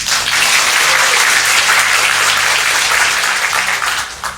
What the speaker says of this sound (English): if you do a round of applause for the coaching staff, please